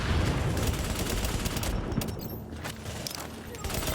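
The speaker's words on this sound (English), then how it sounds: "I'm just non-stop shooting him" Gunfire in The Division during a Broadway Emporium fight on Hard, with dense, continuous rapid shooting and heavy booms filling the whole stretch, briefly thinning midway before resuming at full intensity.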